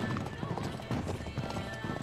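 Horse hooves pounding in a gallop in an Uncharted 3 caravan chase, a steady clip-clop rhythm with a brief whinny, mixed with game music and shouted voices.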